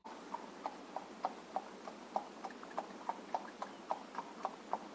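An old mare's hooves clop along a damp forest path in a steady, even walking rhythm of soft repeated thuds, moderately close and quiet, with no voices.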